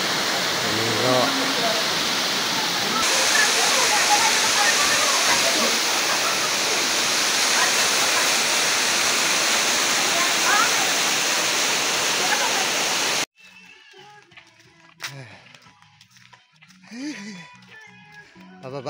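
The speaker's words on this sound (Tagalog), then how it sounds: "dito na kami sa may baba ng welcome ng Uluan Falls" The Nangoloan Anghalo waterfall roars as a loud, steady broadband wash close by, cutting off abruptly to quieter outdoor sounds with faint voices.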